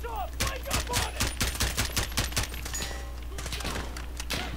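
Machine-gun fire in the Modern Warfare video game campaign: a rapid series of sharp shots repeating steadily over a low constant rumble, loud and close.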